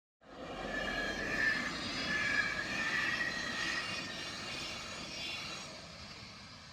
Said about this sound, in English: then there came a beautiful Swiss train passing by